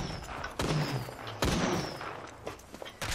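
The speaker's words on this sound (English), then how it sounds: "I am taking fire. Hey, someone shooting me." Enemy gunfire in a video game, a few sharp loud shots cracking out at intervals over a busy background of game noise.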